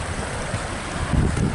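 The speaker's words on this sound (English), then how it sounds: "It has a cool little waterfall." Steady rushing water of a small waterfall running beneath a walkway fills the clip, a continuous broad wash of falling water heard up close with no voices.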